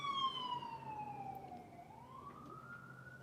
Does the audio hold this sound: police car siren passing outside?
yes